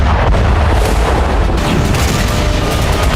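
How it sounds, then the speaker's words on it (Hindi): Loud, continuous booming blast noise from a Russian KH-38 cruise missile strike on a Ukrainian army position in Kherson, rumbling and crackling throughout, with no voices. "खेरसोन में रूस ने KH-38 क्रूज मिसाइल से धमाका कर यूक्रेनी सेना के ठिकाने को तहस"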